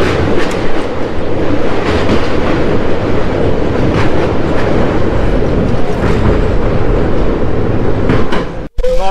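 A passenger train runs toward Bethuadahari railway station in West Bengal, heard from on board as a loud, steady rumble with rhythmic wheel clatter across the rails, continuing throughout before a brief sharp drop at the end.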